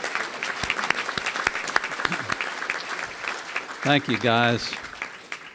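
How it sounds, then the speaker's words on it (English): Rotary club audience applauding senior veterans, with scattered sharp claps that thin out as someone speaks briefly near the end. "And let's give certainly our most senior veterans a big round of applause,"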